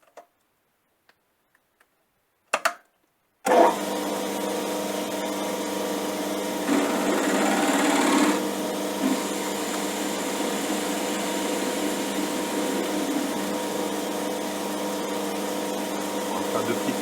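A metal lathe turning a steel part for a welding table handle starts after a few clicks and runs with a steady, loud mechanical hum and cutting noise, rising briefly during a pass.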